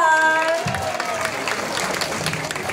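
An audience at the Queen of Sampaloc 2024 pageant during the national costume segment applauds, heard as a loud, steady wash of clapping from a large crowd after a host's amplified voice fades.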